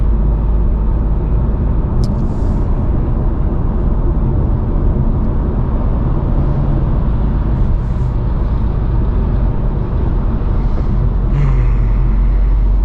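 Ford EcoBoost Mustang cruising on an open road gives a loud, steady drone of engine and road noise with heavy low rumble and wind, continuous throughout with no talk.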